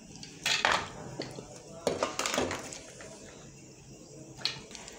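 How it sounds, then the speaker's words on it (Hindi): Chana dal poured into a blender jar in a home kitchen, a few close clattering rattles of the dry lentils against the jar and kitchenware, spaced in short bursts. "तो हम चना दाल को सभी को हम डाल लेंगे"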